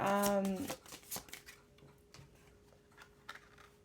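A Vivid Journey tarot deck is shuffled in a few quick riffling bursts, close and soft, after a brief hum of voice at the start.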